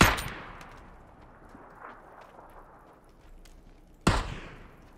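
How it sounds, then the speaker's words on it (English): Gunshots in PUBG on the Erangel map: a loud crack at the start and another near the end, with faint, scattered distant shots echoing in between over a quiet outdoor background. "Hearing those shots."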